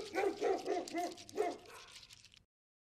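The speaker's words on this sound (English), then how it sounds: "this person wants to stop a dog from barking" A dog barks several times in quick succession, close and fairly loud, with yelping, whimpering tones mixed in before cutting off to silence.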